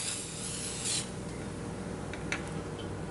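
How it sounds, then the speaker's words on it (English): Spray starch misted from an aerosol can onto a fabric bow for baking, one brief hissing burst followed by a softer short spray, close by, with faint rubbing between. "and I'm gonna lightly spray it."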